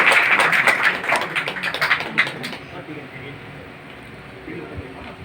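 An audience at a Teacher's Day event at an ITI college claps for a teacher, a loud burst of dense applause that fades over about three seconds into a quiet room.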